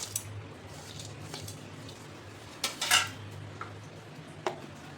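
A spoon scrapes finely ground lentil powder out of a steel grinder jar in a home kitchen, giving a few soft scrapes and clinks with a louder cluster of metallic taps near the end.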